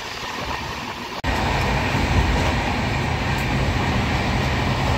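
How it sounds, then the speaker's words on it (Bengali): Inside the Howrah–Lalkuan weekly superfast express running at 130 km/h in heavy rain, a loud, steady roar of wheels and carriage rumble fills the coach after a sharp click, continuous and close throughout. "প্রচণ্ড গতিতে এখন ট্রেন যাচ্ছে, ঘন্টায় 130 কিলোমিটার।"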